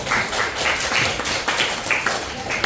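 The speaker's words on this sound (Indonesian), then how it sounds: "coba kita beri tepuk tangan dulu buat 6 kelompok" A class of students claps for six groups that have just presented, producing a full, even round of applause that holds at a steady loudness throughout, with a faint hint of voices.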